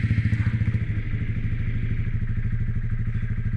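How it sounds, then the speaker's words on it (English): A nearby motorcycle engine idles and rumbles steadily with a rapid, throbbing pulse and some clattering, continuous throughout and with no talking. "there's that bike in the background"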